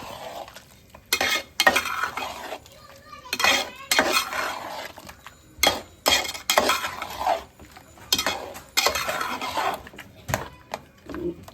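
Curry being stirred in a metal pot, the spoon scraping and clinking against the sides in repeated bursts separated by short pauses, loud and close, with faint sizzling underneath.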